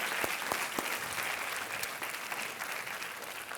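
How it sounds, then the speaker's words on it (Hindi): Studio audience applause on a televised quiz show welcoming a contestant, a sustained, dense round of many hands clapping at moderate level, with a few sharper individual claps standing out. "तालियों के साथ इनका स्वागत किया जाए"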